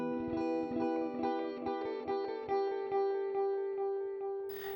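An electric guitar riff runs through a Joyo R-07 Aquarius delay pedal, a string of distorted picked notes with tapering echo repeats trailing each one, close and clear with no talk.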